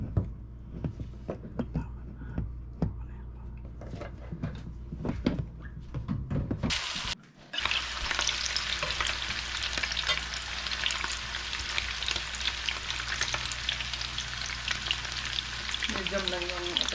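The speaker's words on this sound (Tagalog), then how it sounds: "So, dito tayo magprito sa kawali na to." Pork giniling omelette (tortang giniling) fries in a pan with a loud, continuous close sizzle, preceded by brief clinks and stirring noises and a short pause before the frying takes over.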